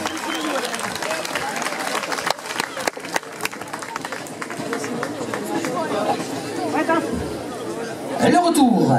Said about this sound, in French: Et public, vos applaudissements pour la clique d'Estimaux.